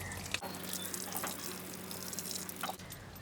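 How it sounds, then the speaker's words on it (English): Water poured from a can onto soil over buried underpants, a soft continuous trickle and splash, quiet and close, running for a few seconds. "So, I'm just going to quickly give them a little water."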